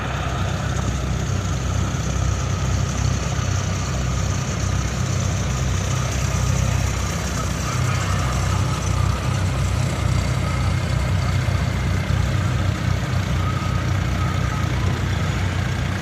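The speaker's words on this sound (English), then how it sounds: "1944 John Deere B, owned by Scott Furnell and operated by Scott" A 1944 John Deere B tractor runs at an outdoor threshing show parade, its engine putting out a steady low throbbing idle, close and continuous for the whole stretch.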